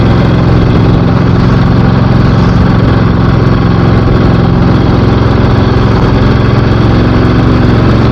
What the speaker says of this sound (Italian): come vedete sono tutte moto abbastanza adventure che percorrono